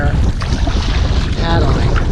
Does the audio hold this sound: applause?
no